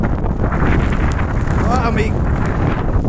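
Wind buffets the microphone on a snowy mountain trail in Norway with a loud, continuous low rumble, while a person speaks briefly over it.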